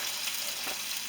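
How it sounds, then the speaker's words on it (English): Steak sizzling in melted butter in a hot pan, a steady close frying hiss that holds evenly throughout with no talking. "things of butter into the pan. And while that's in there, gently place the steak on top."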